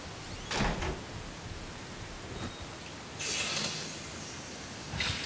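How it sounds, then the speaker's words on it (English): A door opens in the Outlast horror video game. Noisy, muffled bumps and creaks come in short bursts near the start, midway and toward the end, set against a steady hiss. "I'm gonna open the door."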